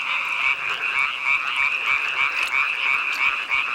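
Tree frogs calling in a loud, dense chorus of rapid pulsing croaks, close and continuous with no gaps.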